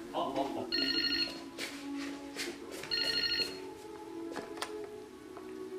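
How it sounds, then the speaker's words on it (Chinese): A telephone rings in two electronic bursts indoors at a family home, each ring a bright repeating trill, with people talking over and between the rings. "电话响了。"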